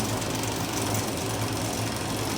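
A worktable sawmill cutting through a cedar post, a loud steady mechanical drone of saw and engine running continuously and close with no pauses.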